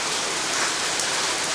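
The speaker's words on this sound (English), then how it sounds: "it's rain as you can see" Steady, dense rain pours down in a garden, a loud continuous hiss of drops on surfaces with no pauses and no voices.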